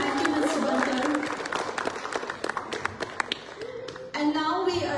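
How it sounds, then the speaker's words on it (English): Audience applause for Professor Stroud's talk at the 68th Dhamma Chakra Pravartan Din event, a steady crowd clapping that stays loud throughout, with a voice speaking over it near the end. "let's give Professor Stroud one more round of applause for his empowering talk"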